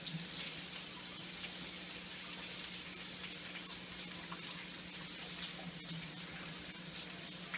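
Tap water runs steadily into a kitchen sink during hand washing, a constant close hiss with no pauses and no speech.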